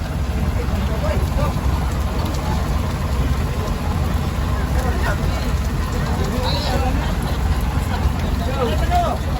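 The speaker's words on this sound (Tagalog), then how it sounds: "lakas ng ulan dito sa Mindanao mga idol" Steady heavy rain hisses without pause at a port in Mindanao, with faint voices and background activity mixed into the downpour.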